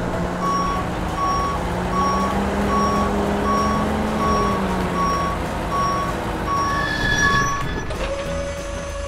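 A yellow dump truck hauling a load of lemons, its reversing alarm beeping in a steady repeated pattern over a low engine rumble, loud and constant with no talk.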